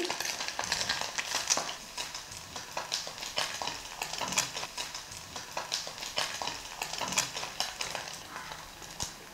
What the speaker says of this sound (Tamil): இப்போ நெத்திலுமே நல்லா வறுபட்டுருச்சு எடுத்துடலாம்